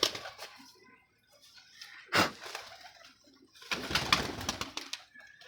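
Pigeons softly cooing nearby, faint and intermittent, mixed with rustling and a brief flutter of wings.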